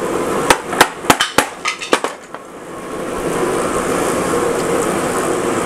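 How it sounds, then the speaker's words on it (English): A DIY gift box is whacked apart with chisels and screwdrivers, giving a close cluster of loud, uneven metallic strikes, then a steady background hum with no talking. "we're using chisels and we're using screwdrivers and we're using everything in our disposal to make this break apart"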